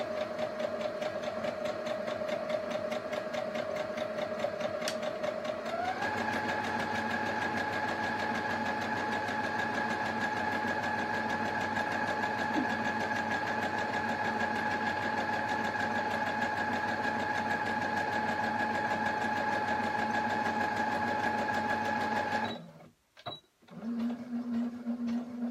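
A Brother sewing machine stitches a fabric square with a steady, close mechanical hum and rapid rhythmic needle chatter, rising in pitch as the speed increases and running for over twenty seconds before stopping abruptly.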